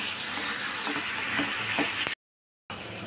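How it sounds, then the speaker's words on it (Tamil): Chopped onions sautéing in a pan for chicken handi, a continuous bright frying hiss with soft stirring taps, cut by a brief silent gap before the sizzle resumes. "நல்லா வதக்கிக்கலாம் நல்ல செவக்க ரோஸை வறுக்கணும் சாரி வதக்கணும்"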